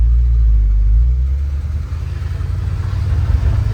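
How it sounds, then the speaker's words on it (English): A car engine rumbles low and steady close by, revving unevenly as the tires spin without grip in a burnout, with the pitch and level rising toward the end. "do a little burnout because we got no grip"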